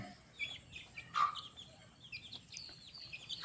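Faint clucks and calls from Aseel chickens, a prized rooster with a Thai-cross hen, scattered as short bursts over a quiet yard background.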